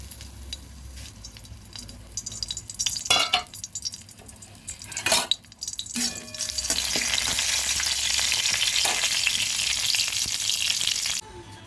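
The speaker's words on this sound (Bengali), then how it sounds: "আলু ভাজার কড়াইটার মধ্যে আমি আর একটু তেল দিয়ে এবার দিয়ে দেব তেজপাতা আর শুকনো লঙ্কা" Bay leaves and dried red chillies fry in oil in a wok used for frying potatoes. Scattered utensil clinks and scraping come first, then a loud, steady sizzle builds and holds before cutting off abruptly.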